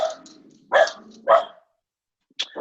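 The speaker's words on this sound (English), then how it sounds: "My dog." A single dog barks close and loud, two or three sharp barks in quick succession followed by a pause and another bark.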